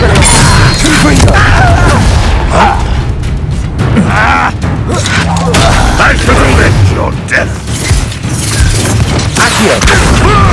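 Confringo blasting spell going off in the Hogwarts Legacy video game, a burst of booming, crashing impacts amid a continuous loud mix of battle noise and combat effects.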